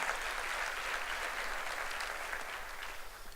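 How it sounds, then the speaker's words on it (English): A crowd applauds steadily, a dense wash of clapping that stays loud throughout before easing slightly at the end. "I'd like you to please give yourselves a round of applause."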